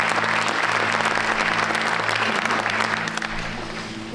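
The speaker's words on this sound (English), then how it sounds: "I want you to give yourselves a big round of applause" A retreat audience claps for themselves at a spiritual gathering in Sedona, producing close, dense applause that stays strong, then softens toward the end, with a low steady hum underneath.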